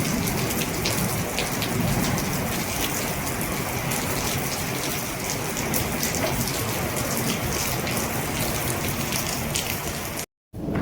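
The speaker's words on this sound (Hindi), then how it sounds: "और ये देखो गाइस बारिश आ चुकी है" Heavy rain pouring down steadily, a dense continuous hiss of drops hitting surfaces, loud and close, cutting off abruptly near the end.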